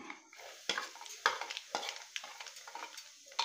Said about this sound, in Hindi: और अब इसमें डाल देंगे हम घी, और हल्दी पाउडर लिया था हल्दी पाउडर भी डाल देंगे। अब इसको थोड़ा भूनने देंगे